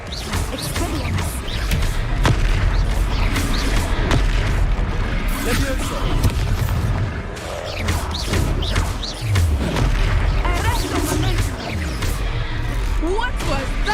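In Hogwarts Legacy, a spell is cast amid dense, continuous battle noise: repeated booms, thuds and crashes keep going throughout, with voices talking over them.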